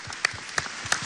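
Applause for governor Carmen Teresa Meléndez Rivas at a productive-work event, a soft patter of clapping with a few louder individual claps standing out at irregular intervals.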